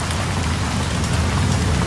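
Rain in the Green Bridge heist of the video game Payday 2, a steady, dense hiss of rainfall on surfaces, loud and even throughout, with no speech.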